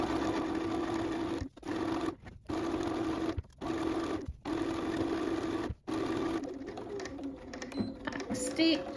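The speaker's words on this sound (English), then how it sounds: "just finish sewing this side to the quilt" A domestic sewing machine stitches binding onto a quilt in several close, steady whirring runs, broken by short pauses between bursts, ending with brief fiddly handling noises.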